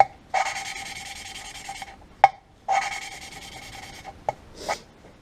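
A petrol engine valve seat on a 1967 Land Rover Series 2a 109 2.25 cylinder head is hand lapped with lapping compound, giving two long gritty rubbing spells broken by sharp taps and a short final scrape.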